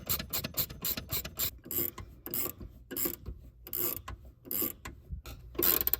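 A hand wrench ratchets in rapid repeated clicking strokes while tightening the rear shock bolt on a Honda Civic, close and steady, each stroke a short burst of clicks with brief pauses between.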